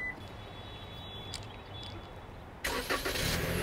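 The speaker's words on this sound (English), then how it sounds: "It starts the car as a safety feature." A 2019 Toyota Camry XSE starts remotely from its smart key: a quiet stretch of faint background hum, then the engine catches with a sudden, louder broadband roar near the end and keeps running steadily.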